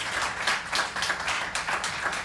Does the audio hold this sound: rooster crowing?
no